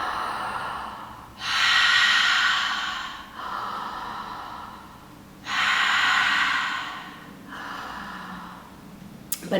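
A person demonstrates breathing in through the throat as a breathing exercise, making two long, raspy inhalations with softer breaths and pauses between them, close and clear with no talking.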